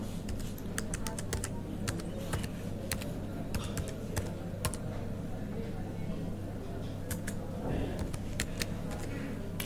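Typing on a computer keyboard while entering a GST registration number online: fast, irregular close key clicks in scattered bursts, with someone talking over them and a low steady hum underneath.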